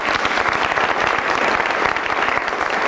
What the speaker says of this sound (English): Please join me in applauding the efforts of all of these committed young people.